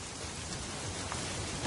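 Steady rain hisses evenly throughout, a dense wash of patter with no voices and no breaks.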